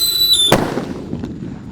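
A jumbo whistling thunder firework, set under an upturned pan or basin, gives a short shrill whistle that cuts into a single loud, close blast, then fades in a rumbling decay.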